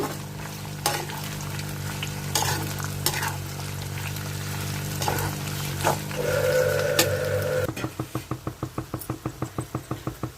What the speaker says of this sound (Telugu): వేగాలి వేగాలండి ఇంకా సేపు వేగాలి